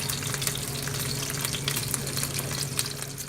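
Eggplant meatballs in tomato sauce topped with extra cheese heat in a pan, giving a soft continuous sizzle and bubbling, close and steady.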